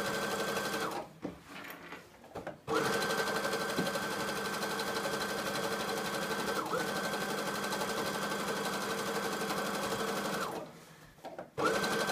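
A sewing machine stitching along the selvage edge of fabric while a mini skirt is being made, running in a long steady whirring burst with brief stops and starts at each end, close and clear.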